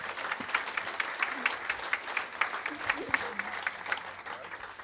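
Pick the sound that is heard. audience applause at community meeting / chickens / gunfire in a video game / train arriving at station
audience applause at community meeting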